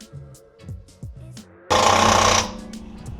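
Impact wrench tightening lug nuts on a car wheel during a tire rotation, a short series of quick ratcheting clicks followed by a loud buzzing burst lasting under a second, then quieter again.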